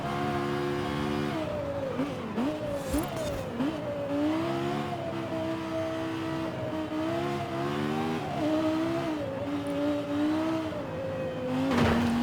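A fast car racing around a circuit in Forza Horizon 5, engine droning and rising through gears with brief tire squeals, close and continuous, no voices.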